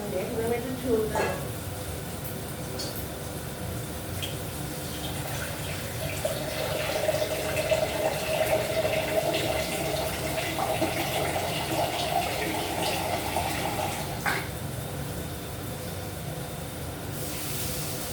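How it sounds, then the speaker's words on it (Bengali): Water poured into a pan of potato and eggplant curry for a prawn dish, a steady hissing flow lasting many seconds, close and moderately loud, with a voice talking over it. "আর আলু বেগুনটা সঙ্গে এখন আমি একটু ঝোল দেবো।"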